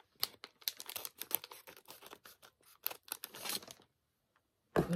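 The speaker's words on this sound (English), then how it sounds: "We'll use the yellow scissors because we have lost the black scissors." Scissors snip repeatedly through the plastic wrapping of a budget online-shop package, a quick, close run of crisp cuts and crinkles that ends in a pause and then one last rustle.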